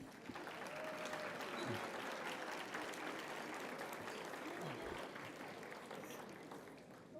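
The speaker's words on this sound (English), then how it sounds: "Feel free to give them an applause if you'd like." Audience applause at a life gala, steady dense clapping from a large room of guests lasting several seconds, fairly distant and faint.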